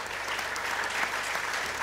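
A studio audience breaks into applause, a brief, dense burst of clapping that runs steadily for a couple of seconds.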